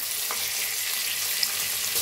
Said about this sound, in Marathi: छान असं कांद्याला भाजून घेऊया.